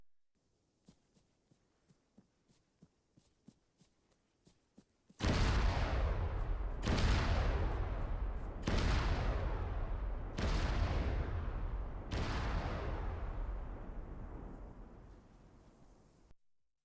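Five IED blasts detonate in sequence in the military video game ArmA 3 to create a carpet bombing effect, each deep booming explosion rolling into the next after a run of faint clicks.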